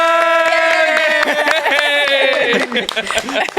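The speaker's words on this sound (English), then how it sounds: "Sorry, I was clapping, but I had a beer in my hand." A live studio audience on a comedy talk show claps and cheers in a dense burst of applause, loud and close, with voices calling out over it before the clapping thins out.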